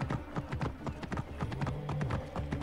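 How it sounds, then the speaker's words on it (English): Horse hooves clip-clop at a steady, lively rhythm in Assassin's Creed Origins as a horse is ridden away, close and clear, with a brief whinny-like tone in the middle. "Now get on the horse and ride away."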